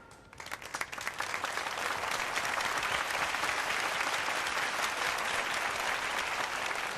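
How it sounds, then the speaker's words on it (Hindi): Audience applause at a prize distribution, starting with a few claps and swelling within a second into dense, sustained clapping from a crowd that carries on steadily. "एक बार फिर से जोरदार तालियां।"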